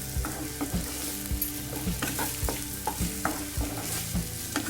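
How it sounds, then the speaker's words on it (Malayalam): Onions and tomatoes for chicken handi sauté in a pan, a steady soft sizzle broken by repeated scraping and clacking stirs of a spoon, close and moderately quiet with no voices. "ടൊമാറ്റോയും കൂടെ വഴറ്റിയെടുക്കാം"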